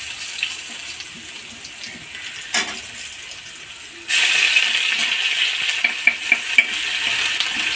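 Ginger and asafoetida hit hot oil, starting with quiet stirring and a single clatter, then a sudden loud, bright sizzle that keeps hissing with a few sharp spoon knocks.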